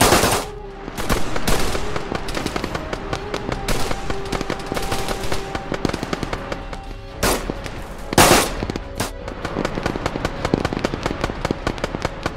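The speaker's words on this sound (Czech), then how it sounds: "Střílej po nás!" Machine gun fire in the ArmA 3 military game, from a Czechoslovak-army campaign set at a border, rattles in loud sustained bursts with sharp louder blasts mixed in, over a dense battle din.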